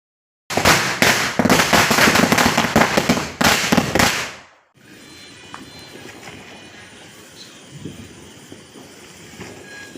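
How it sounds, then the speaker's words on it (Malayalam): Vishu firecrackers go off in a loud, dense rattle of rapid bangs for about four seconds, then stop abruptly. A quiet outdoor background with faint distant noises follows. "ഞങ്ങൾ പടക്കവും പൂത്തിരിയൊക്കെ കത്തിക്കുക കേട്ടോ"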